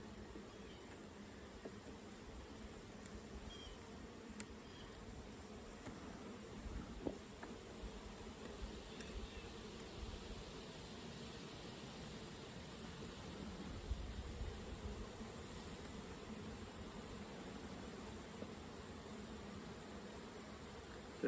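Honey bees buzzing around open beehives during an autumn hive check and feeding, a steady low drone that holds faintly and evenly throughout with no talk.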